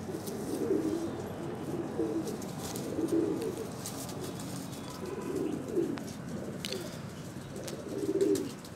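Pigeons with fine feathers coo in soft, repeated low rolling phrases, roughly once a second, close but gentle against quiet background noise.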